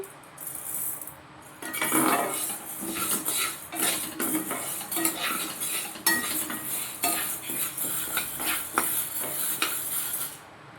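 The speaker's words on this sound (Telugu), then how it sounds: "ఒక లో ఫ్లేమ్లో పెట్టుకుని నేను వేయిస్తున్నానండి" A utensil stirs and scrapes in a pan over a low flame while making jaggery sunnundalu, with continuous metallic clinks and rattles throughout and no talking.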